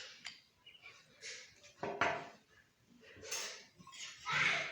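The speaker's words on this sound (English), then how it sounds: "So I'm going to scoop out a teaspoon of Vaseline." A spoon scrapes and clinks against a jar while scooping out a teaspoon of Vaseline. The scrapes are soft and close, and no one speaks.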